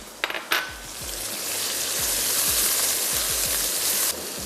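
Onion and capsicum hit a hot pan for a marinara pasta sauce, first with a couple of metallic clinks, then a loud steady sizzle of frying, with repeated soft scraping and stirring thumps.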